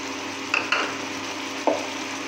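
Ground onion paste hitting a pan of frying peas for a matar mushroom curry, giving a steady close sizzle with a few soft spoon scrapes and stirring knocks, no talking.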